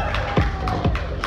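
A convention crowd at a steampunk fashion show cheers and whoops, a steady loud roar of many voices with a few sharper shouts rising above it.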